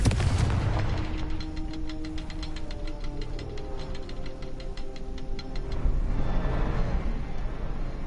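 A Confringo blasting spell goes off in Hogwarts Legacy, a heavy low boom that rolls on under a fast ticking rattle, then swells again toward the end, loud and continuous.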